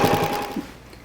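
A short, rapid burst of sewing machine stitching through a quilt, close and fairly loud, then slowing to a stop within a second.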